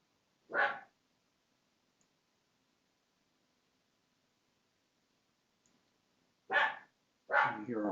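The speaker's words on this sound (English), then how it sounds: "You hear our puppy barking there." A puppy barks indoors, one sharp bark followed after a long quiet gap by two more close together, with brief clicking in between.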